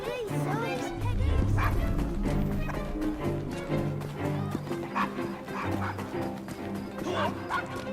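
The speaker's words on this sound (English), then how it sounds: "Nice doggy." A dog barks and yips in the Assassin's Creed Syndicate video game, several short barks mixed among game sounds and music, with a voice talking over them.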